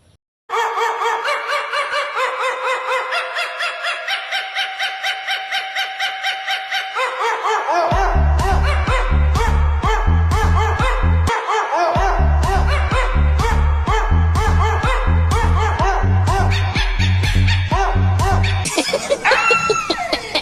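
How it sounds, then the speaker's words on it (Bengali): A song built from dog barks and yelps, with the barking arranged rhythmically over a steady beat and melodic backing. "গেয়েছেও কুত্তা মিউজিক দিয়েছেও কুত্তা"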